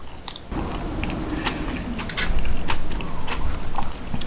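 Crispy pipikaula short ribs, a Hawaiian dried beef, being bitten and chewed close up, with crunchy crackles over steady, loud mastication and no talking.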